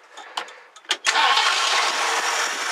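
A 1969 Ford Club Wagon engine cranks in a few short bursts, then catches and fires into a loud, steady idle that holds to the end.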